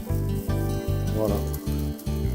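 Food sears in a hot pan with a thin drizzle of olive oil, making a steady close sizzle with a voice speaking over it in short phrases.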